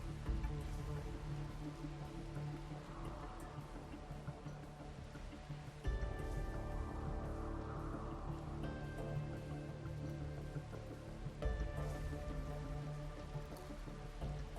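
Steady rain falls in the video game Rimworld, a soft, continuous patter and hiss of drops that holds evenly throughout at a low, distant level with no talk over it.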